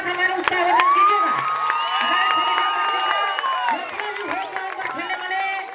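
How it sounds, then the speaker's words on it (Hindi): Crowd at a village kabaddi match during a youth festival cheers, whoops and shouts continuously, with children's voices and scattered clapping in a loud, dense outdoor din. "दर्शक के साथ बिल्कुल तालियों के साथ हमारा उत्साह वर्धन कीजिएगा।"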